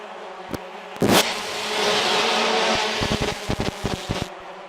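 Race cars at the 2016 Toronto street race roar past, with a swelling engine drone followed by several sharp, quick passes and bursts of revving at moderate distance, with no talk.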